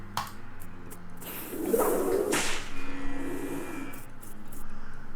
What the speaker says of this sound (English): I'm gonna whip it.